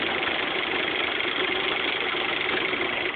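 Sewing machine running steadily while quilting a T-shirt quilt with a regular stitch along chalk-marked lines; a continuous, even motor whir with a fine rapid rattle, close and unbroken throughout.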